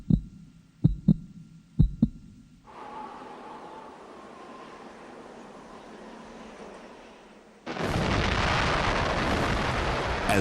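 An atomic bomb test: a few sharp countdown beeps give way to a low, building rumble, then a sudden, loud, sustained roar of the blast that fills the rest of the clip.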